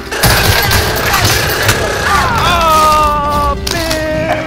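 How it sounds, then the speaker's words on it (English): Airstrike explosions in Call of Duty Warzone rumble loudly and continuously, a dense barrage of booms with wavering whistling tones overhead, close and overwhelming throughout. "There's a airstrike!"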